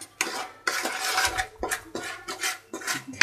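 Chicken pieces being mixed with spices and red paprika in a bowl for a fried chicken dish, with repeated scraping and clinking bursts of a utensil against the bowl in an uneven rhythm, close and moderately loud, with no talking.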